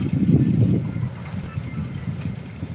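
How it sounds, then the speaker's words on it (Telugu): Wind gusts across the mic during paddy winnowing in the open, a loud low rumbling buffet that peaks early then settles into a steady blustery roar. "గాలి వచ్చింది మా బాగాను"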